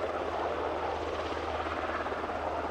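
A Sikorsky SH-60 Seahawk, a twin turboshaft United States Navy helicopter, produces a steady, continuous rotor and turbine roar with a low rhythmic thrum, loud and unbroken throughout.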